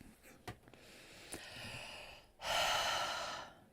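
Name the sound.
unusual heavy breathing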